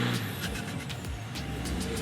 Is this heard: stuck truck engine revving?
yes